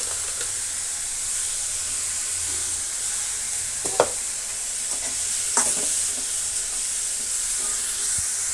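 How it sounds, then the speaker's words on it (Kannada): Spices with chili powder and salt sizzle steadily in a hot pan, a constant close frying hiss broken by a couple of soft scraping stirs, with no voices. "ಒಂದು ಅರ್ಧ ನಿಮಿಷ ಈ ರೀತಿ ಫ್ರೈ ಮಾಡಿಕೊಂಡ್ರೆ ಸಾಕು"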